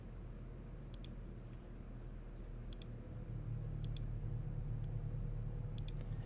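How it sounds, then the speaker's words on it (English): Crisp computer mouse clicks while building a FileMaker database layout, coming in quick double-click pairs, four times at even intervals, over a faint low room hum. "I'm telling you, I'm clicking on them like crazy."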